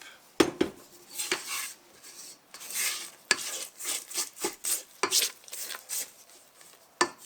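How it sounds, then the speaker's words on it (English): A spatula scrapes around a mixing bowl of creamed butter and sugar for holiday cookies, giving a run of close, uneven scraping strokes with sharp clinks against the bowl, the sounds alone. "So we're going to give it a little scrape."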